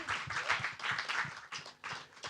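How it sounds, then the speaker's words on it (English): An audience applauds at a Broadway-style musical commemoration, with bursts of clapping and cheering that swell and fade, fairly faint and somewhat distant. "please, a round of"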